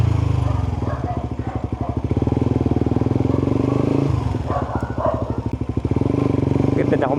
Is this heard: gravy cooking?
no